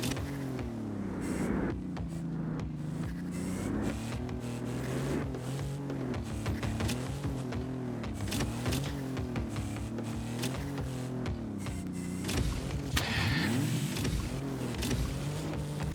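Video game car engine in a driving challenge, a faint, wavering motor whine that rises and falls over a steady tone, with occasional soft effects.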